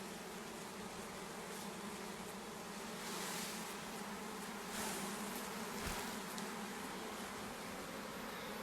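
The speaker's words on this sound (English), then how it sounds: "A handful of bees." Honeybees bearding outside their hive on a hot day fill the air with a dense, continuous buzzing hum, close and steady, with brief swells as individual bees fly near.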